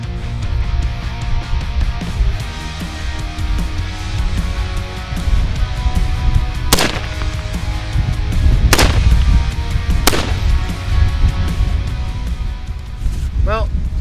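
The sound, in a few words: gunshots from a DRD rifle in .308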